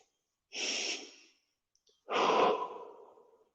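Two deep breaths during a stretching exercise, a long breath in followed by a slower, fuller exhale, close and alone in a quiet room.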